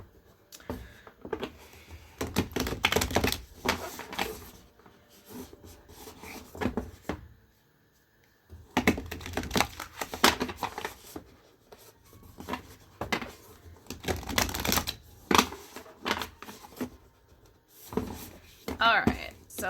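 Bursts of soft papery riffling and slapping as tarot cards are shuffled repeatedly, in several clusters separated by brief quiet gaps.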